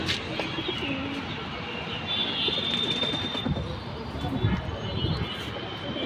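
Domestic pigeons kept at home, including a silver hen, coo softly in a steady low murmur under a noisy background, with voices talking nearby.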